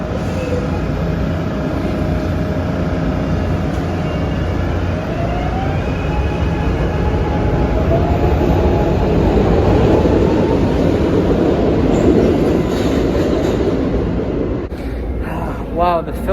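Philadelphia Market-Frankford Line subway train running through a tunnel, a steady loud roar and rumble of wheels on rail with faint squeals, lasting throughout before ending in a few sharp clicks.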